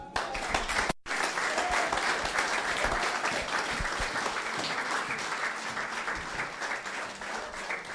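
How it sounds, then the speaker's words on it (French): A church congregation applauds loudly and steadily, a dense, sustained clapping that runs almost the whole length after a brief gap at the start. "Acclame-le."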